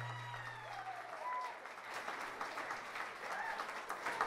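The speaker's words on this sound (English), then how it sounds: "a very big round of applause for Pat Potter" A wedding crowd applauds steadily, a dense wash of clapping that holds at even loudness throughout, with a faint voice underneath.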